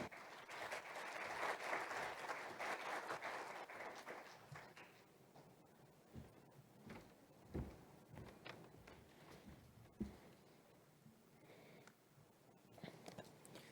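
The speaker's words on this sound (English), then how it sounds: "please be generous in your applause" Conference attendees at a bioenergy special event applaud, a fairly faint round of clapping that swells early and then thins into scattered individual claps with rustling and knocks.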